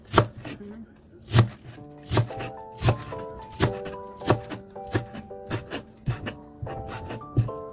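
A knife chops through garlic chives on a cutting board in steady, close, crisp thunks, roughly one or two strokes per second, with no talking.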